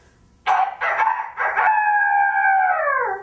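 A loud rooster crows once nearby, a rising cock-a-doodle-doo ending in a long, drawn-out falling note.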